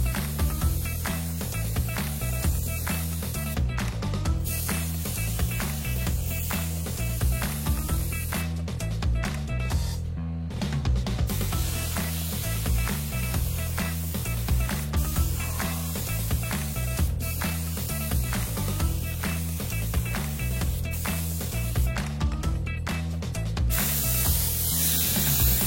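High build primer sprayed onto stripped car bumpers and trim pieces, a continuous loud hiss running throughout with small fluctuations and a steady low hum underneath, close, with no talking.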